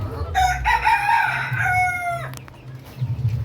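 Brahma chickens in a backyard coop, one rooster giving a close, drawn-out crow while hens cluck softly underneath and the flock keeps up low background chatter.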